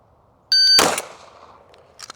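A single loud, sharp pistol shot during a grip-focused shooting drill, preceded by a brief electronic shot-timer beep and followed by a short decaying echo and faint clatter.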